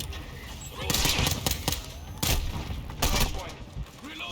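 Rapid pistol fire in the Warzone video game, several sharp shots clustered in quick bursts over a steady game background, with a voice speaking under the shots.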